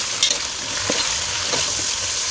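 Beef pieces with bone stir-fried in oil in a pan over low flame, a steady loud sizzle with a few scraping stir strokes, no voices.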